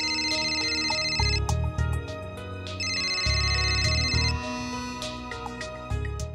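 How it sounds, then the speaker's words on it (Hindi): A telephone ringtone plays in bursts of bright electronic melody, loud and close, with short pauses between phrases and no talking over it. "फिर से सुंदर जी का फोन।"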